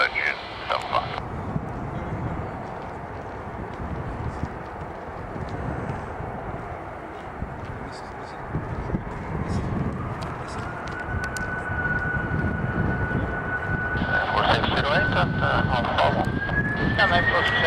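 A Virgin Atlantic Boeing 747-400 takes off from Manchester Airport with a broad, steady engine roar that swells through the clip and a rising whine near the end, under radio chatter from air traffic control.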